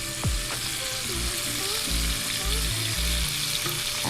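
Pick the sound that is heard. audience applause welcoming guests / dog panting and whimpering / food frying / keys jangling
food frying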